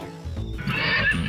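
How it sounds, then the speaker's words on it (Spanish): A horse neighs in a short, clear whinny with a rising, quavering tone over a low rumble, moderately close and alone. "Solo es el caballo relinchando."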